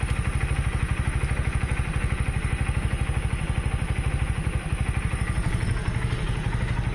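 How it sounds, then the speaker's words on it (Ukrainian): A Mustang 125 motorcycle engine idles steadily up close, a loud, even, rapid low thumping with a mechanical clatter running through it, uninterrupted throughout. "І вертається на холості все чітко."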